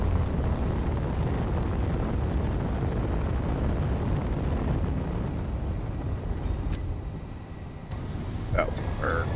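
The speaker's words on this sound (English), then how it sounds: "Looks like it detonated" Detonation of a launched missile in the game Wasteland Chronicles, a long, loud rumbling roar that holds steady for several seconds before thinning out, with a few faint clicks near the end.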